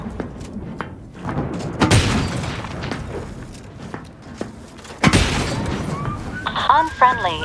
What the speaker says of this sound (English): He's actually shooting something.